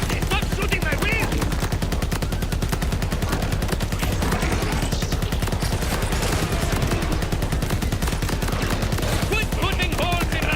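Rapid automatic gunfire from the video game Borderlands 4 hammers away nonstop, loud and close, a dense steady rattle of shots for the full stretch, with faint voices surfacing briefly near the start and end beneath the barrage.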